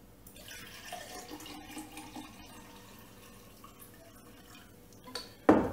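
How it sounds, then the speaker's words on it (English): Faint water trickling and splashing into a glass holding apple cider vinegar for several seconds, ending in a louder brief splash or clunk. "you just add water"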